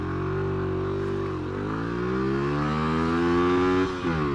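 A Lexmoto ZSX-F motorcycle accelerates hard in first gear, the engine whining steadily higher in pitch as speed builds, then dropping sharply near the end as the throttle eases.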